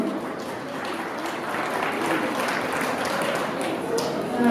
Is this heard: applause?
yes